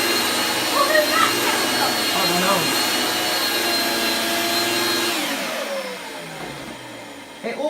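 An 80s Hoover Spirit S3261 upright vacuum cleaner with a Quadraflex Powermatic head runs with a loud, steady motor drone and whine that begins to wind down near the end.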